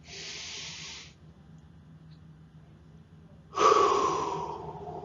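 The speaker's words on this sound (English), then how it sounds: "then I'll take a deep breath" A person draws a long, deep breath in, holds it through a quiet pause, then lets it out in a strong, breathy exhale, heard close and alone.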